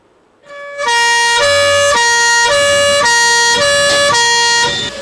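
A fire engine siren blares loudly and close with a steady tonal wail. Regular pulsing beats run through the tone for several seconds after a sudden onset.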